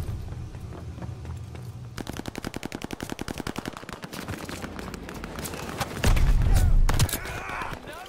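Rapid automatic gunfire in the Call of Duty Vanguard video game, a fast steady burst of shots followed by a heavy blast and scattered shots, with a player talking.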